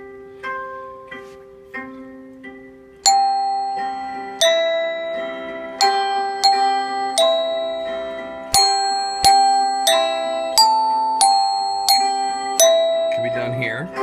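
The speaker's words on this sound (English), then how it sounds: "I will alternate between playing what I drew here and playing the actual resonator bells." Resonator bells in a first-grade music lesson for "Rain Rain Go Away" ring out in a steady sequence of clear, sustained metallic notes over a backing track, each strike loud and close with a gently decaying tone.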